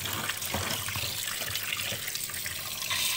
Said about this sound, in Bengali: তো আমি ভালো করে এখন মাংসটা ধুয়ে নিচ্ছি।